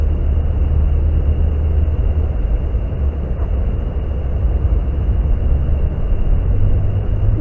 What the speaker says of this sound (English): I know the wind is blowing, and I'm sorry if that gives some audio interference,